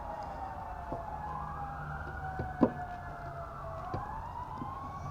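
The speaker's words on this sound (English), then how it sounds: "you are going to hear always some ambulances coming by" An ambulance siren wailing as it passes through a residential neighbourhood, its tone sweeping up and down at a moderate distance over a low road hum, with a few sharp taps nearby and no talking.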